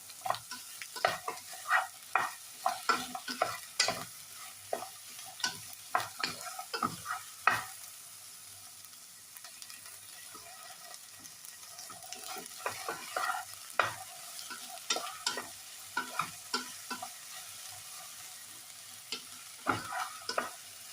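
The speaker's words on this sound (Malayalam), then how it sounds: "എല്ലാം കൂടെ നന്നായിട്ട് മിക്സ് ചെയ്ത് ഉള്ളി നന്നായിട്ട് വാടി വരുന്നവരെ ഇളക്കി കൊടുക്കാം" Onions frying in a pan for okra theeyal, stirred briskly with a utensil: a steady run of scraping, tapping stirs over a soft background sizzle, close and fairly quiet, with no talking.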